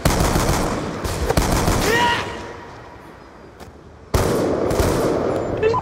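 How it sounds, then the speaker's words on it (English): In Call of Duty Black Ops 2, bursts of gunfire crackle in rapid volleys, then fall quiet for a moment before a loud, close burst resumes, with a brief voice heard in between. "Fuck, I'm being shot at."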